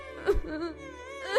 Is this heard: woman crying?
yes